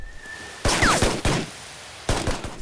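Sniper gunfire during a ridge ambush in the video game Shadow Ops: Red Mercury: loud, sharp crackling bursts in three clusters, with short quiet gaps between volleys.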